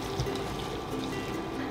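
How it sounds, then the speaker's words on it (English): Udon noodles drop into a pot of boiling broth, with a steady watery churn and gurgle close by. "so let's put the udon noodles."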